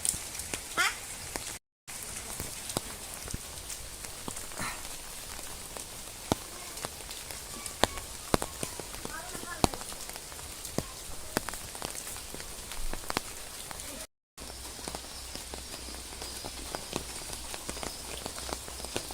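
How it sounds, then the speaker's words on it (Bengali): Steady village rain falling outdoors, a soft continuous patter of drops on surfaces with scattered louder ticks, fairly faint and even throughout with no talk. "বৃষ্টি নামছে আর কবুতরের সুযোগ নিছে গোসল করার।"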